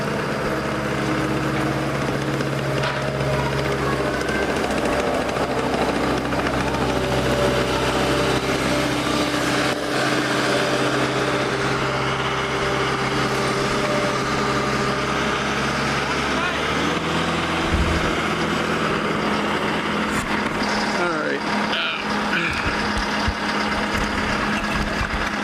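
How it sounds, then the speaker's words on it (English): A tractor drives close behind at an ice art championship site, its engine a loud, steady drone with changing revs, while someone talks over it and near the end a burst of handling noise breaks in. "The tractor following me."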